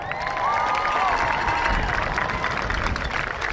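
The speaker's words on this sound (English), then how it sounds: "Big round of applause" A crowd applauds at a high school graduation ceremony for the Calipatria High School class of 2025: loud, sustained clapping with scattered cheers and a couple of whistles, steady throughout.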